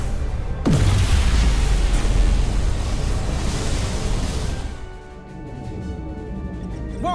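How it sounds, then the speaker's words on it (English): A dilithium crystal explodes from a phaser shot in the video game Star Trek Resurgence: a sudden loud boom drops into a long, heavy roaring rumble that fades over several seconds. "Dilithium explosion!"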